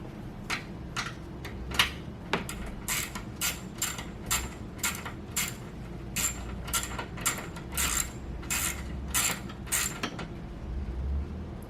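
A ratchet tightens bolts on a Subaru WRX STi airbox, a string of sharp, rapid clicking bursts repeating in an uneven rhythm, close and clear with no talking.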